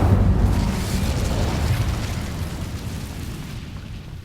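An Incendio fire spell cast in Hogwarts Legacy, a loud whooshing burst of flame that roars at once and slowly fades over several seconds with no voice on top.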